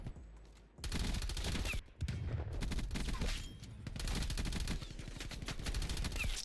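LC10 submachine gun firing in Call of Duty Black Ops Cold War: several sustained rapid-fire bursts, loud and close, separated by short gaps, with no talk over them.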